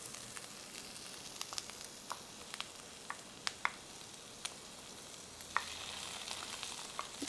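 Bacon renders and sautés with tomato paste in a pan for osso buco, giving a steady close sizzle broken by scattered sharp crackles and spoon-scraping clicks, with no talking.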